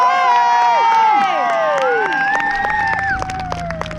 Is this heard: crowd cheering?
yes